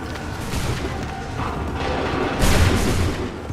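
Soldiers fire a volley of muskets in the Assassin's Creed 3 video game, a dense rolling burst of booming shots that swells loudly near the end, with no talk over it.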